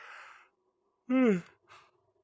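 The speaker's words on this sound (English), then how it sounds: "Sorry about the yawn." A man gives a short yawn, a breathy exhale followed by a brief drawn-out voiced sound that falls in pitch, heard close and alone in a quiet room.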